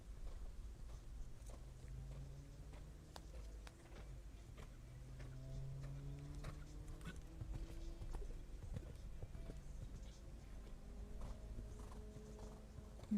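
A horse canters across a dressage arena at a junior eventing championship, its hooves giving soft rhythmic clip-clop beats at a distance over a steady low ambient hum.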